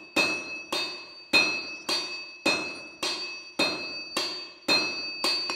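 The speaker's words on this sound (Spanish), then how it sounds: "quien golpea alternativamente con el mallo" Heavy sledgehammer blows ring on steel at a centuries-old forge in a steady rhythm, about nine sharp clanging strikes, each with a bright metallic ring that briefly lingers, while hand shears for sheep shearing are forged.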